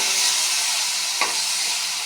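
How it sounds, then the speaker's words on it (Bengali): Spices frying in a pan with a steady, close sizzle and hiss, broken by one brief sharp burst as liquid soy sauce hits the hot oil. "মশলাগুলি ভালোভাবে ভেজে নিচ্ছি"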